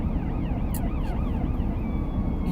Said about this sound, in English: I hear sirens, something going on